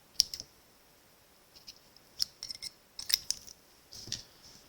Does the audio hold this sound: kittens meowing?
no